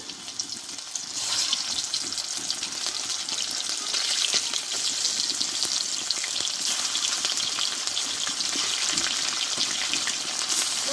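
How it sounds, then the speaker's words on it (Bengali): Fish frying in mustard oil in a wok, a loud, dense, steady sizzle that swells up after a quieter first second and continues unbroken throughout. "কড়াইয়ে দিয়ে দেবো সরষের তেল"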